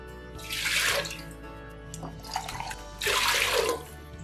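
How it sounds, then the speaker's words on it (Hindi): Water poured from a glass into a cooking pot set on a village wood-fire stove while white chicken pulao is being made, heard as two splashing bursts with a smaller trickle between them, close by. "4 गिलास पानी ऐड करेंगे।"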